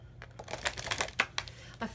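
A round tarot deck is shuffled, with quick soft riffling and card-slapping bursts in an uneven rhythm, close and fairly quiet, with some low background murmur.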